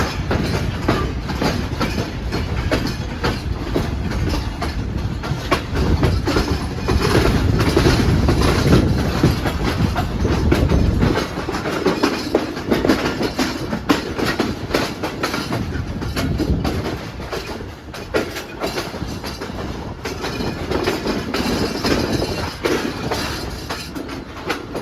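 Steady rumble and rhythmic clickety-clack of the Pak Business Express 33UP train running on the rails between Karachi and Lahore, heard from inside an economy class coach, constant and close for the whole stretch, with no voices.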